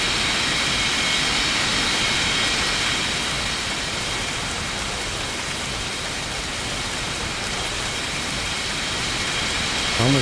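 Lufthansa Boeing 747 jet engines on takeoff: a broad, loud, sustained roar that dips slightly midway and swells again, with no voices.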